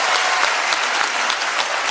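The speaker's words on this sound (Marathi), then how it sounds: "एकदा जोरदार टाळ्या होत्या विचार मंचासाठी" Loud, dense applause from a stage-show audience at a Marathi comedy event, continuous claps filling the whole moment without a break.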